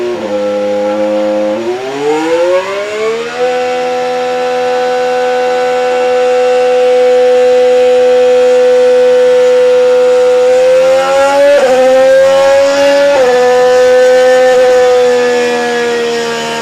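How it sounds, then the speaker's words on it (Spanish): Mercedes 2026 Formula 1 power unit revving: a loud, smooth, high whine that climbs through the gears, holds a steady note, then dips and rises again with brief shifts, heard alone. "el motor de Mercedes para el año que viene"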